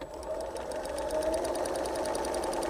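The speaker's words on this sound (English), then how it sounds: "Go ahead and sew that together." Sewing machine running steadily while stitching quilt pieces together, a close, continuous rapid whir of needle strokes with no talking.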